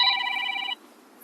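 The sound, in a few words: telephone ringing with a call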